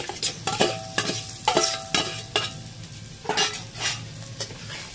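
Fried potatoes are tipped into a pan of vegetarian rice with papad and peanuts and stirred with a utensil, giving repeated scraping clanks against the metal and a soft sizzle underneath.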